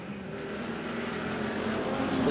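Speedway race cars run on an oval track at Beachlands Speedway, a continuous, fairly distant engine drone that rises slightly as they race.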